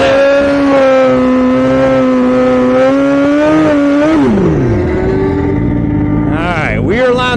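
A Hayabusa-based Hyperbusa drag bike launches hard through first gear, its loud engine holding a steady high rev before the pitch sweeps down and climbs again near the end, with a voice talking over it.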